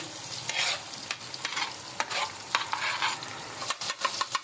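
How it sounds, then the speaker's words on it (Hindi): Tomatoes stir-fried on a tawa for dhaba-style beef kaleji, with steady sizzling and repeated scraping strokes of a spatula across the pan, close and moderately loud, no talking. "टमाटरों को अच्छी तरीके से भून लेंगे तकरीबन 2 से 3 मिनट के लिए।"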